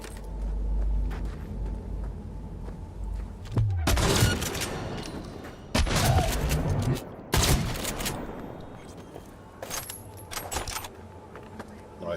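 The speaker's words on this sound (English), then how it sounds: "let's bring out a shotgun for these guys" Shotgun blasts in a PC shooter game, several loud broadband booms spaced a couple of seconds apart with mechanical clatter and background game noise between them.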